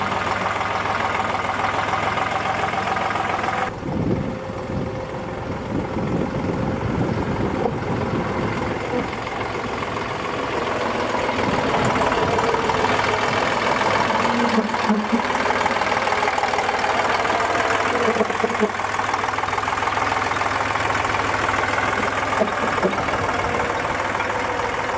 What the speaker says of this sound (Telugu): ఆ ఆలోచనతోనే ఈ ప్రత్యేక ట్రాక్టర్ను తయారు చేయించారు.